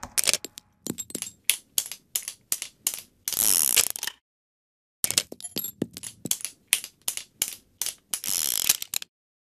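A video game gun is reloaded in sequence: the chamber opens, bullets load, the cylinder spins closed, and the hammer cocks. It comes as two passes of crisp, close mechanical clicks and ratchets, each with a longer whirring spin burst, and no talk.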